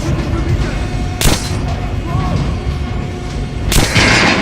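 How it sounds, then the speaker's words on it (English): Two loud, booming gunshots from Metro: Last Light Redux fired at an armored target, spaced a few seconds apart over a steady game background hum. "Now shoot the armor, dummy."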